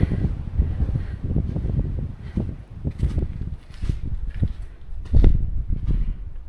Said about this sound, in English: There's a gusty wind here.